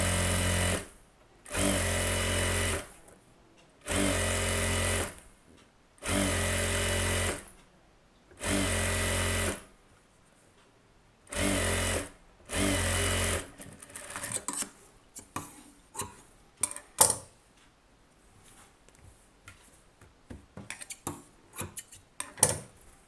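A sewing machine stitches a close-neck blouse in short, even bursts of whirring separated by pauses, then shifts to scattered brief clicks and rattles, close by with no talking.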